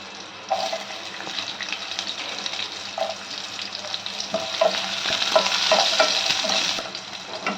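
Green chillies and onions frying in a pan, a bright continuous sizzle with intermittent scraping stirs and splashy crackles, close and fairly loud throughout.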